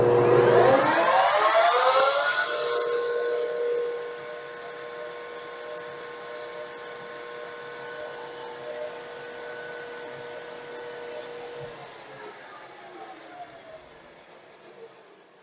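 Summit 1440D manual lathe running at 2000 RPM, a high whine that spins down as the spindle slows in the first few seconds, then a quieter steady mechanical hum with faint clicks, close with no talk.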